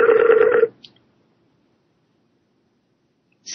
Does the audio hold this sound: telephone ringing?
yes